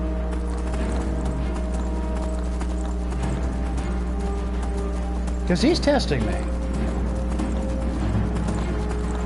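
Steady hoofbeats clop along under a speaking voice, with a short, shrill horse whinny rising briefly in the middle.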